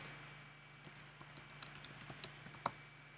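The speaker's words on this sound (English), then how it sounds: "you go to Google and you type in your keyword" A keyword is typed into Google on a computer keyboard: a quiet run of light, irregular key clicks that gets busier toward the end over a faint steady hum, with no talking.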